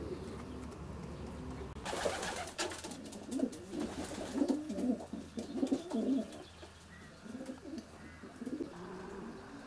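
Racing pigeons coo softly inside a breeder's loft, a run of low, rolling coos repeating in clusters, with a brief burst of rustling or flapping near the start and no talk.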